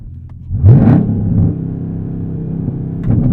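A Chevrolet ZL1 Camaro's engine revs loud and close while out of gear, rising sharply to a roar, then holding a steady deep idle rumble before another blip.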